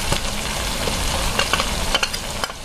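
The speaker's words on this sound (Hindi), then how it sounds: "सारे ड्राई मसाले आप इसके अंदर डाल लीजिए।" Dry spices fry in a pan of paneer curry masala, a loud, close, steady sizzle broken by scraping stirs and small crackling pops, with no talking.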